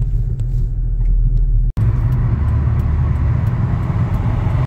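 Cars sit and move in road traffic in South Korea, a close steady engine rumble and road noise with a brief cut partway, then continuing drone; no talking.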